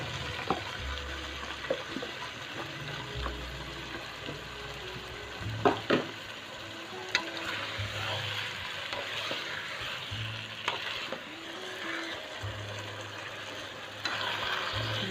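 Minced meat and potato chunks sizzling in a hot pan while being stirred for aloo shimla mirch gosht, a steady frying hiss broken by scraping spoon strokes and soft clinks, close and continuous with no talk.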